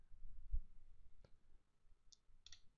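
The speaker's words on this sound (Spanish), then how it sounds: "Hago clic." Mouse click on a computer while working in Excel, a few short faint ticks standing alone against a quiet room.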